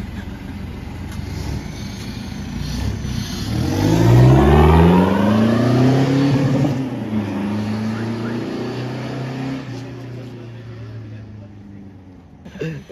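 A drag diesel car at a car meet revving hard during a tyre burnout, its engine rising to a loud roar midway and then holding a lower drone, with a crowd talking around it.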